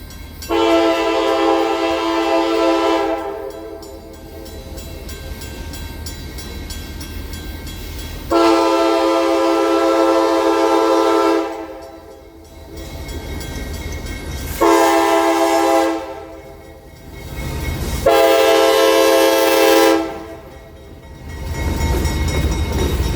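Genesee and Wyoming freight train passing a highway crossing, its horn blaring in several long, loud blasts separated by short gaps, with steady rumble of the rolling cars underneath.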